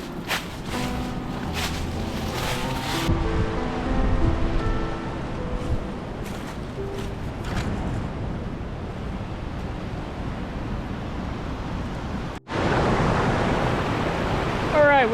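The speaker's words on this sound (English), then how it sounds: "We finally made it to Kiesee Falls." Rushing water from a waterfall and creek at Kiesee Falls makes a constant, broad roar, with brief rustling and handling noises early on before the steady flow continues, then a sudden cut to an even louder wash.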